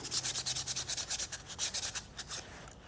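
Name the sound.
wet sanding with 400 grit sandpaper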